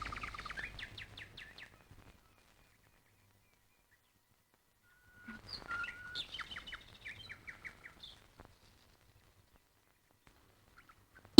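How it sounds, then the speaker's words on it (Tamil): Several birds call outdoors in short bursts of chirps and tweets, one cluster at the start and another midway, separated by quiet, with a loud sharp sound at the very end. "இங்க இருந்தா பறவைங்க பறக்கிறது, அதுங்க கத்துறது"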